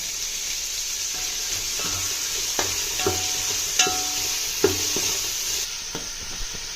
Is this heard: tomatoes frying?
yes